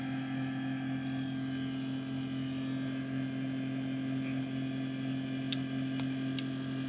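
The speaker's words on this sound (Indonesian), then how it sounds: "Sampai kipas suara kasar itu berhenti." A Polytron refrigerator fan runs rough and noisy, giving a steady, low hum with faint ticking. A few sharp clicks sound near the end.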